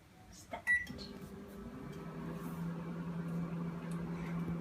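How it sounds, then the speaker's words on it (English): A microwave oven heating prawn crackers: a few short button beeps and a thud, then the steady, rising hum of the running oven. "You have to press the microwave and then press 10 seconds."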